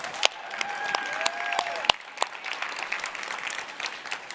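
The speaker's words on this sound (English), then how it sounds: "Let's give a round of applause for Hugh." An audience at an indoor stage event claps in a short burst of scattered applause, moderate and somewhat distant, with a few louder individual claps.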